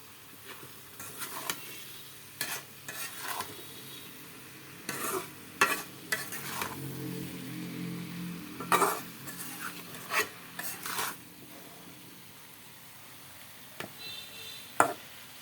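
Stinging catfish and taro being stir-fried with garlic, ginger and onion paste: a steady sizzle under repeated scraping strokes of a spatula against the pan, some close and loud, spaced irregularly with no talking.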